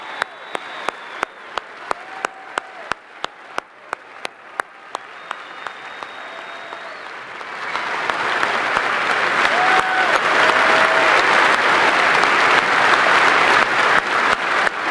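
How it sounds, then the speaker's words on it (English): A rally crowd applauds Vietnam veterans, starting with sharp, evenly spaced individual claps and swelling around the middle into loud, dense, sustained applause. "If you're a Vietnam veteran, let's give them a round of applause."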